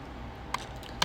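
The Q key pressed on a computer keyboard, two short, sharp clicks about half a second apart, close and dry, with no talk over them.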